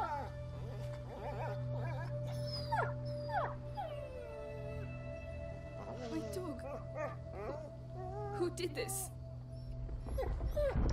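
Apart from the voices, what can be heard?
dog whimpering and howling, from video game A Plague Tale: Innocence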